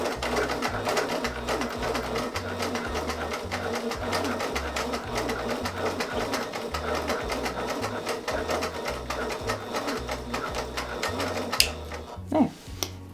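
A sewing machine stitches in the ditch during free-motion ruler quilting, its rapid needle chatter running steadily and close for most of the clip before a brief pause and a few sharp knocks near the end.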